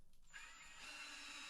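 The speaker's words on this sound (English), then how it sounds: "we're back with the right drill bit now, or driver bit, I should say, since Kim bought" A power drill driver fitted with a Star Drive bit spins up after a brief pause and runs steadily with a high whine, close and fairly quiet, with no talking.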